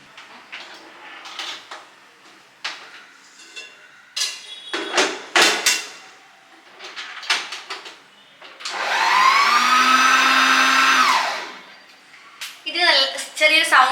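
An electric hand beater whirs steadily for about two seconds as it whips eggs with vanilla essence for a cake batter, set between spoken remarks in a home kitchen.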